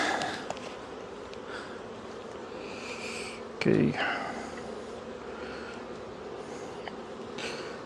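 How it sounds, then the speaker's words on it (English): Many honeybees hum around an overwintering hive with a candy board in Connecticut, a continuous close buzzing with a brief rustling bump midway and a short spoken word. "Now look at that, all these bees already."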